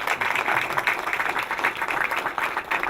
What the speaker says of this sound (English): So if you could give them a nice round of applause.